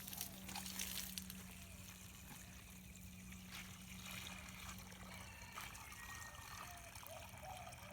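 Water from a garden hose trickles and splashes into a bucket, a faint, steady running stream with soft gurgles that continues throughout.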